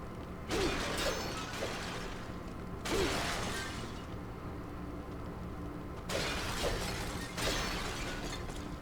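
Pots smash in the video game Wrath: Aeon of Ruin as crashing, shattering bursts, two close together and then two more after a quiet gap, each with a rattling debris tail.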